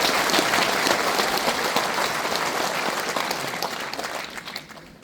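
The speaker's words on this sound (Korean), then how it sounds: "박수 한번 쳐주십시오." An audience at a book launch event for a Korean education superintendent candidate claps loudly and densely, the applause holding strong before gradually tapering off toward the end.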